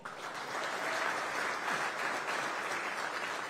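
Steady crowd applause, dense and sustained, from a sizable audience at a city innovation and technology event in Aurora, with no voices on top.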